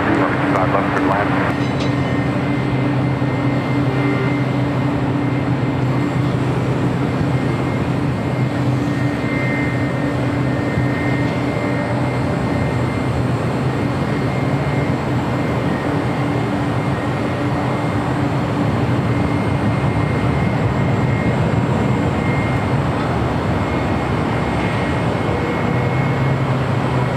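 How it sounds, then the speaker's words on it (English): A United Boeing 777-200 inbound from Chicago O'Hare on a south-side arrival at LAX gives a steady, broad engine roar that holds for the whole stretch, with a voice talking over it. "The United 777-200 coming in from Chicago O'Hare, 3 minutes out, south side arrival."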